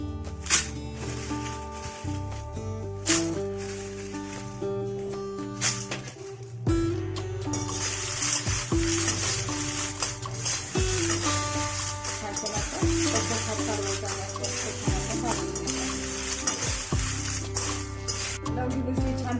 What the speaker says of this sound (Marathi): आता आपण लवंगी मिरची भाजायची आहे